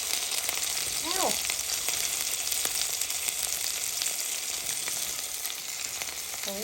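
A patty melt sizzles and caramelizes in a hot pan with a constant, close, crackling fry that holds throughout, and a brief squeak of utensils or a voice comes in near the start.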